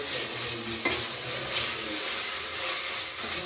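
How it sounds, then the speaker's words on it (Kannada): Onions with cloves, bay leaf and ginger-garlic paste frying in a pan, giving a loud, dense, continuous sizzle with an occasional stirring scrape, close up and with no voices. "ಚೆನ್ನಾಗಿ ಫ್ರೈ ಮಾಡಬೇಕು ಗೋಲ್ಡನ್ ಬ್ರೌನ್"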